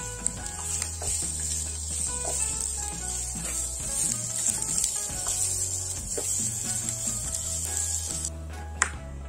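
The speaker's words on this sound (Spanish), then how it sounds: "hemos añadido la cebolla, un poquito de aceite y ahora vamos a echar un poquito de sal. Y vamos a dejar que se vaya rehogando" Chopped onion sautéing in a little oil with a pinch of salt in a frying pan gives a steady, close sizzle across the whole stretch, with faint scrapes and taps on top.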